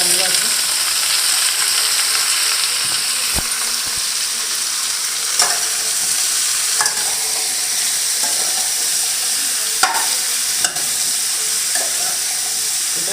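Sliced bottle gourd and potato fry in hot oil in a pan, giving a steady, loud sizzle throughout with occasional scrapes and clicks of stirring.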